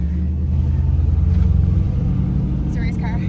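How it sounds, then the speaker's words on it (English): A drag race car engine at a drag strip rumbles and revs steadily with a deep, loud drone, while a voice briefly sounds near the end. "It's a race car."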